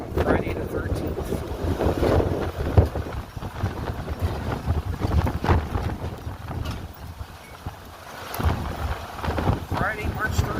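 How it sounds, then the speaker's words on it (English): Strong wind gusts on a high-wind-warning day in Newark, Ohio, buffet the microphone with a loud, rough roar that swells and eases in uneven surges. "Well, this wind is whipping today, on Friday the 13th."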